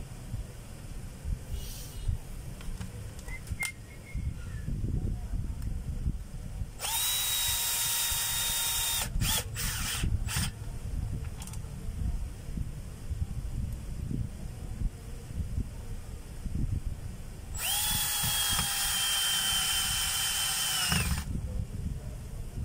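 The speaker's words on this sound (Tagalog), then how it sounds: "kakabit na natin yung tatlong screw para lock ng bearing" A power drill driving three screws to lock a bearing: two loud sustained whirring bursts with a brief trigger pulse between them, set against quiet outdoor rustling and wind.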